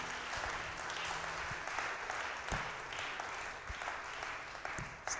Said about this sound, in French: Shall we please now give a hand to Jesus?